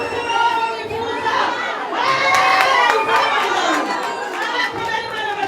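A church congregation at Elayono Mountain Church welcoming visitors cheers and claps loudly, with a dense, lively crowd of voices and shouts over scattered applause, all close and sustained.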